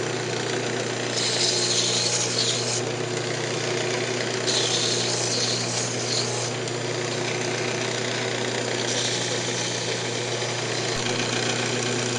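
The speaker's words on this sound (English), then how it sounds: "I'm just going to sand this up, the inside of it" Sandpaper works the inside of a turned yew wood box spinning on a lathe, with three bursts of hissy abrasion over a steady motor hum and no talking.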